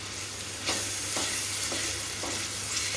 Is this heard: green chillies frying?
yes